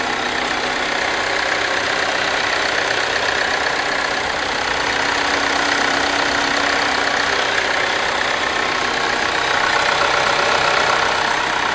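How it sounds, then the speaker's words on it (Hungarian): Mercedes-Benz Sprinter 315 CDI diesel engine running: a steady, even engine hum with a faint knocking texture, close and continuous with no voices over it. "A motorja pedig, én azt mondom, hogy ez egész újszerű élmény hallgatni is az autónak a motorját."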